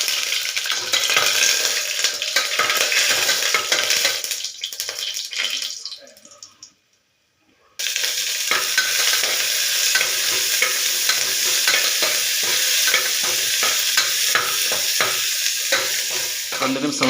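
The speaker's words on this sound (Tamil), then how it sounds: "கொஞ்சம் லைட்டாக கிளறி விடலாம்." Cardamom and spices for pea pulao sizzle and fry in a pan while being lightly stirred, a steady loud crackle with scraping, broken by a few seconds of near silence.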